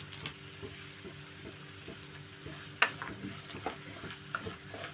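Curry leaves fry in hot oil with a faint, low sizzle and a few sharp pops and crackles, along with light tapping of a spoon in the pan; quiet and close, with no speech.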